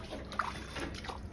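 Water filling a container at home, a soft continuous trickle and gentle sloshing, fairly quiet and close, with no clear talk.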